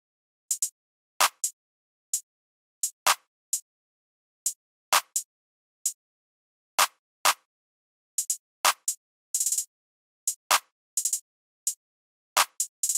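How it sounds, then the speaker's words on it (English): Short, crisp drum-machine claps from a kit in a sparse, syncopated loop, each hit a bright snap over silence with occasional quick flam-like doubles and rolls, played alone. "the whole clap pattern is sounding like this"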